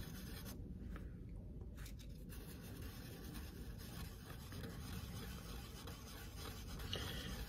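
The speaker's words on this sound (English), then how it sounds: "So I'm using wet and dry 800" Wet-and-dry 800-grit paper rubs across the lacquer of a Breedlove AD25/SR Plus acoustic guitar, a faint, steady scratchy hiss of back-and-forth sanding strokes, close by, with no talk.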